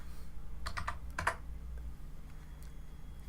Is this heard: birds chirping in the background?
no